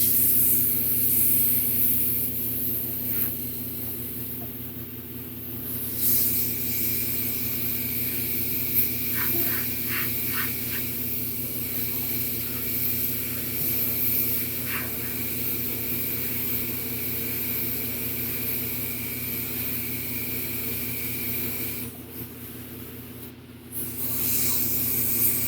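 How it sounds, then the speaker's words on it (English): A spray gun hisses continuously while spraying material onto a custom quarter-scale Thor sculpture. Steady machine hum sits beneath, with a few brief clicks and tapping sounds partway through. "So I'm spraying from this way in."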